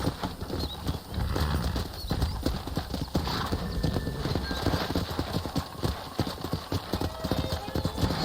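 Horse hooves gallop in a rapid, continuous clip-clop, fairly close, with an occasional whinny over a steady outdoor background, from wild horses in the video game Red Dead Redemption.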